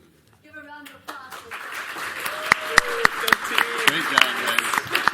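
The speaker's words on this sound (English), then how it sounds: "Give her a round of applause." Audience applause at a panel event on AI, building to steady clapping from a room full of people, with a brief spoken word near the start.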